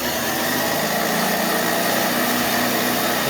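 A large motor on a pipe threading machine runs while it cuts threads on 1-1/2 inch steel pipe, making a loud, steady, close drone with a constant hum and a high whine throughout.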